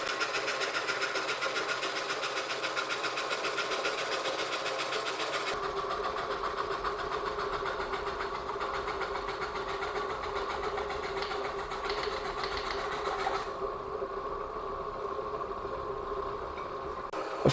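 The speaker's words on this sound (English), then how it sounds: "moving up in size, I'm cutting a 1x2 with a hacksaw blade" A die filer machine saws through a wooden 1x2 with a hacksaw blade, a fast, steady reciprocating buzz and clatter that runs continuously and close, shifting slightly in tone partway through.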